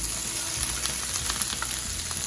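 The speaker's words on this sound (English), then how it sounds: "So I'm just gonna dump most of them straight into the pan." Small chopped pieces tipped into a hot pan for pasta with hummus sauce, crackling and sizzling up close with light scattered pops, no one talking.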